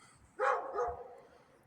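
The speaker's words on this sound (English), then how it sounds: "Someone's dog's over there barking at me." A single dog barks once from a kennel, a sharp mid-distance woof with a short trailing tail, standing out clearly over quiet outdoor background noise.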